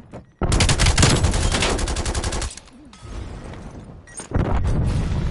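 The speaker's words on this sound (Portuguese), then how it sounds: "Torreta sentinela hostil ativa" A hostile sentry turret in a video game fires a fast, loud, rattling burst for about two seconds, then pauses before opening up again in another rapid stream of shots.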